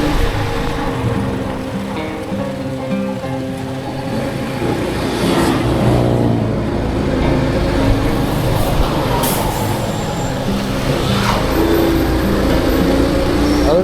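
Dense road traffic in Cianjur after morning rain, with cars, buses and trucks rumbling past close by, engines revving and an air brake hissing, a continuous loud wash of vehicle noise.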